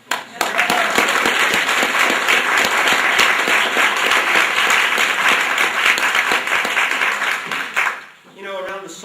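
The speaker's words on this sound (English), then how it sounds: "let's give him a round of applause" An audience at a solstice poetry reading applauds for Ed, dense, loud clapping sustained for about eight seconds before fading, followed by a voice starting to speak.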